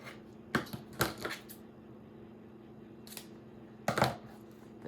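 Scissors snipping a ribbon tail for a Valentine wreath, a few short crisp cuts in quick pairs, close and fairly quiet against a faint background hum.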